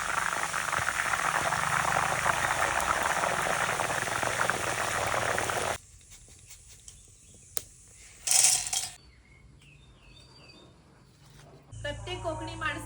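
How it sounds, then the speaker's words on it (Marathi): Salted water splashed onto jackfruit slices frying in hot coconut oil sets off a loud, roaring hiss and bubbling that fills the first half, then drops suddenly to a quiet simmer with a few faint clinks and stirs. "मिठाचं पाणी घालतेय."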